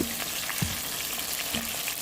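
Food fries in a pan with a loud, steady, close hiss of hot oil, a couple of faint soft knocks underneath and no voices.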